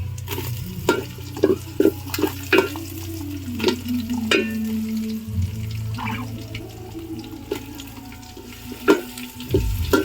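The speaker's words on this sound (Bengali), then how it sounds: "একটু নড়াচড়া করলাম রসুন বাটা দিলাম ক্যাপসিকাম দিলাম" Garlic paste and capsicum sizzle in a pan for chili chicken while a utensil scrapes and clatters in irregular strokes over a steady frying hiss.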